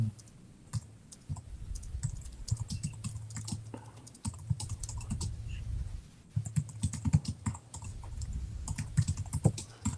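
Typing on a computer keyboard during an online class session: a close, steady patter of light key clicks with brief pauses, over faint room hum.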